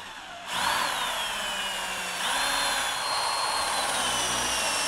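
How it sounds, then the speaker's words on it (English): A power drill whines up and bores into wood for an Adirondack-style project, a loud steady high-pitched spin that dips and surges again partway through, with no talk. "Just set the tip of the drill right on it."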